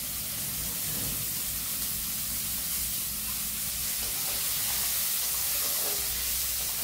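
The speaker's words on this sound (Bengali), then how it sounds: "এবার পেঁয়াজটাকে একটু ভালো করে লাল লাল করে ভেজে নিই।" A large chopped onion fries in hot oil in a pan for puffed-rice mudi ghanta, giving a steady, close sizzling hiss throughout with no talk.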